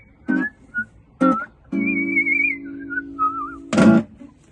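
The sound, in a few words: person whistling a tune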